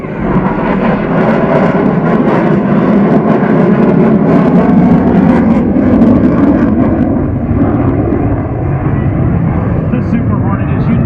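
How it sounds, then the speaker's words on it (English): A Boeing F/A-18 Super Hornet jet flies at an airshow in Mankato, Minnesota, its engines a loud, continuous roar that stays strong throughout, with a voice talking over it. "The Super Hornet is unique in its ability to operate at slow speeds and high angles of attack."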